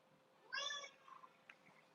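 A single pet cat gives one clear, fairly close meow lasting about half a second in a quiet room, followed by faint soft rustling.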